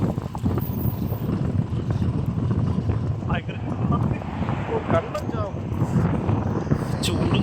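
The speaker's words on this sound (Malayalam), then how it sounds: "ഭയങ്കര പൊടിക്കാറ്റാണ്" Strong dust-storm wind buffets the microphone outdoors beside a giant Hummer at an off-road museum in Al Madam, a loud, continuous rumbling roar with gusty fluctuations and faint voices underneath.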